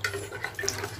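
Water is poured into a bowl of salt, chili powder and spices to make the tangy water for gol gappe, a soft, close splashing and trickling with faint clinks and no talk.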